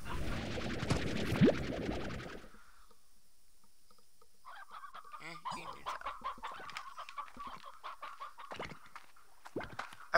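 Chickens clucking on a ranch in the Slime Rancher video game, a short busy burst up front and then scattered clucks and scratchy game sounds at moderate level, with no talk.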